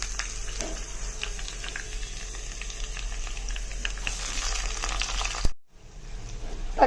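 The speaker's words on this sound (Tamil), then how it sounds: "பிரண்டை சேர்த்துட்டு இருக்கேன் ஃப்ரெண்ட்ஸ், வதங்கிட்டு இருக்கட்டும்" Pirandai, the adamant creeper, sautés in oil in a pan, giving a steady moderate sizzle with light scraping stir strokes, briefly cutting out before resuming.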